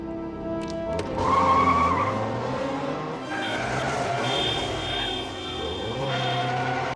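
Tires squeal as a car skids through a chase scene in a Van Damme action movie, a loud sustained screech with shifting pitch over engine noise and background score, continuous for several seconds.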